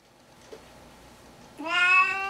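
After a quiet stretch, a cat lets out one drawn-out, rising meow, fairly close and clear, which lasts until the end.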